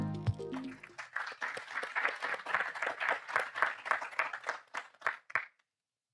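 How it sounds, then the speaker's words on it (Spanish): An audience at a panel discussion on consumer debt and inflation gives a speaker a round of applause. The clapping is moderately quiet and closely spaced, rising and falling for about five seconds before stopping, with a brief voice at the start. "Le brindamos un fuerte aplauso."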